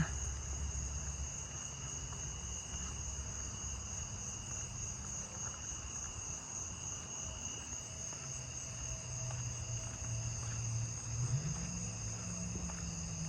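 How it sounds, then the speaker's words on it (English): Japanese burrowing cricket calling faintly amid an unbroken outdoor insect chorus, steady high-pitched trilling over a low murmur and occasional distant low drone, no one speaking. "There's the Japanese burrowing cricket."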